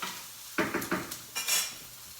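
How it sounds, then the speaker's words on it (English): Vegetables stirred in a pan over medium heat for ratatouille, a few quick scraping clinks of utensil against metal over a faint sizzle, close and moderately loud. "So we're going to stir that around."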